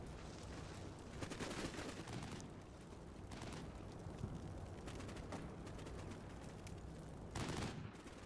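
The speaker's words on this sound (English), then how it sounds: "Return fire." Small arms gunfire in Combat Mission: Cold War crackles faintly in the distance. Scattered bursts and pops sound through a steady low wash of battlefield noise.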